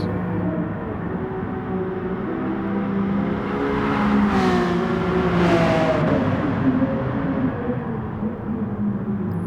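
A Honda NSX and a Ferrari LaFerrari race around a track, their engines roaring loud and continuous with rising revs, swelling as the cars surge past close by, with no talk over the engine noise.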